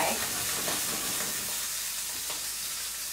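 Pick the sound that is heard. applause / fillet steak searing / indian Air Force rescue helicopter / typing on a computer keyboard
fillet steak searing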